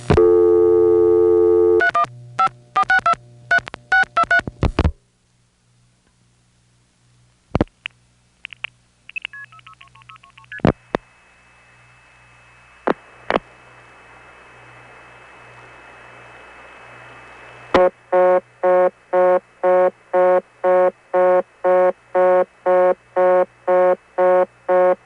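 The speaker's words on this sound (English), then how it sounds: "I got a reorder tone" Long-distance telephone call tones from New York City to the 315 area: a burst of dialing beeps, clicks and a brief steady tone, then a fast repeating on-off reorder tone pulsing evenly until the end.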